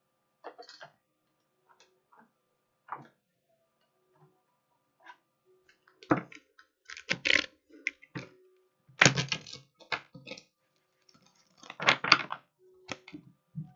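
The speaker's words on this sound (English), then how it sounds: "Oh, these cards are really thin. Look at this. It's so easy to bend these." Thin tarot cards are flexed and handled up close, giving sparse soft clicks and papery snaps that build into clustered bursts of crisp flicking, with quiet pauses between them.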